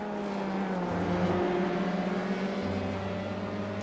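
Sim racing cars drone along in an online race, a steady, moderately loud engine hum with sustained tones holding through the whole stretch, and no voices.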